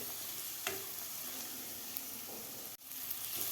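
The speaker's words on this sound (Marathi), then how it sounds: "तर मटारसुद्धा आपल्याला 1 मिनिटभर परतून घ्यायचं आहे मसाल्यामध्ये" Green peas sauté in a spiced masala in a pan, a quiet continuous sizzle with a few light stirring scrapes and a brief sharp clack near the end, no talking.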